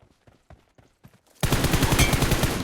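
Rapid automatic gunfire in the mobile battle royale game PUBG Mobile erupts abruptly after a few quieter footstep-like taps, a loud, dense burst of shots continuing to the end.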